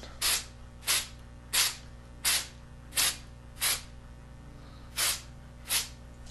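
A spray can is spraying finish onto a wood project in eight short, sharp hissing bursts, evenly spaced about two thirds of a second apart. A faint background hum runs underneath.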